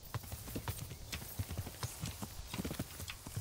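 Horse hooves clip-clop steadily in the video game Kingdom Come, a fairly even trotting rhythm of low thuds close by, with no talking over them.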